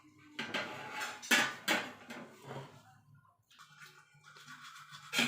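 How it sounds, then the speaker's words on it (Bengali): Cauliflower paratha turned over on a hot, dry pan, heard as close scraping and light clattering of a spatula against the pan with brief pauses between movements. "আমি শুকনো প্যানে এপিট ওপিট করে ভেজে নেব"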